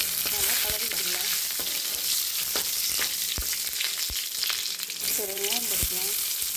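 Curry leaves, two dried chillies and crushed garlic fry in hot oil in a pan, a loud continuous sizzle with occasional sharp crackles and spatula scrapes, plus a brief faint voice.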